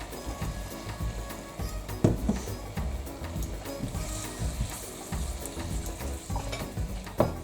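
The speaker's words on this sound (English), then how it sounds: "put the egg mix with the hot food back into the frying pan" Egg foo yung mix fries in ghee in a frying pan, a steady close sizzle with scraping and stirring clatters from a utensil, including sharper knocks near the start and end.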